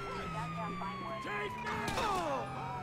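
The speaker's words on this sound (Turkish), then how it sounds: "Aa polis arabası." Wailing police car siren inside the video game GTA V, a sweeping tone rising and falling steadily over a low engine rumble, loud and close throughout.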